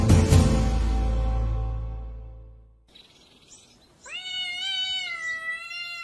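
Cats meow in a high, wavering cry near the end of the clip, after a loud, booming musical burst that fades into near silence.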